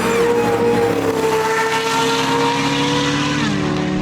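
Corvette V8 at full throttle in a drag race, a loud continuous roar with steadily rising pitch as it accelerates hard, sustained for the whole stretch.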